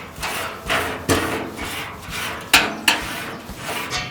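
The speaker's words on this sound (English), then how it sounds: "I'll toss my grate on top, give it a good brush" A wire brush scrubs the grill grate of a drum smoker in several close, rhythmic rasping strokes, with a couple of sharper scrapes and knocks.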